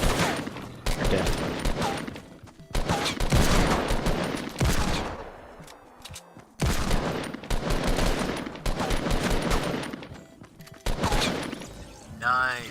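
Rapid bursts of Fortnite gunfire in dense volleys, with short gaps between them and a voice talking over the shooting.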